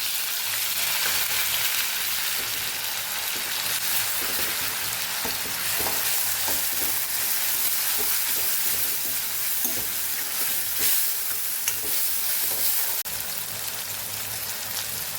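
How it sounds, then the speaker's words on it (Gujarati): Onion sautés in a pan with ginger-chilli-garlic paste, giving a continuous dense sizzle and hiss throughout, with intermittent stirring scrapes close by. "આદુ મરચાં લસણની પેસ્ટ સતળાઈ ગઈ છે તો અહીં આપણે ડુંગળી પણ સાતરી લઈશું"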